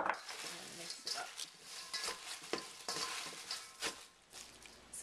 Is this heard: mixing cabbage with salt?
yes